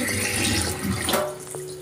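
Tap water running steadily as something is rinsed under it, a close continuous splashing wash with shifting gurgles, no talk.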